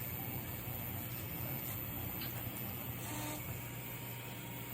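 A Prusa MK4 3D printer fitted with an MMU3 multi-material unit runs steadily, giving a quiet, continuous motor hum and whir with faint stepper tones throughout, no voices.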